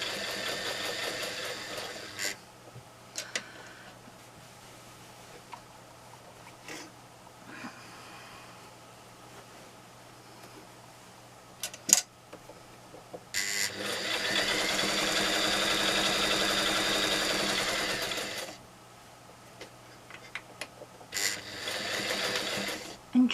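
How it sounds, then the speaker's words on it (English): A sewing machine stitches straight lines across a canning mat, whirring in short runs and one long steady stretch of about five seconds, with clicks and pauses in between, close and alone. "And just backtrack slightly to lock your stitches."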